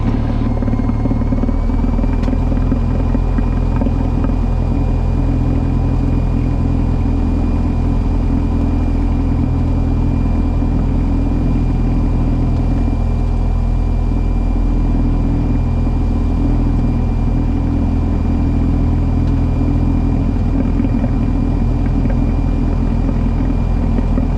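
A Cessna's piston engine runs at full takeoff power in a steady, loud drone that fills the cabin throughout, with no talk heard over it.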